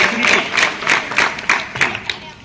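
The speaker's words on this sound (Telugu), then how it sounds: "వెరీ గుడ్, చప్పట్లు కొట్టాలి." An audience at a police talk on menstruation awareness claps in short rhythmic bursts, about seven even claps spaced roughly a third of a second apart, fairly close and loud.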